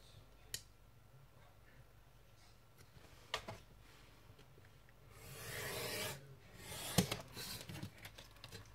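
Paper is cut with scissors while making a happy mail pouch, giving a few isolated snips and clicks and then a longer rustling cut of the paper, quiet and close.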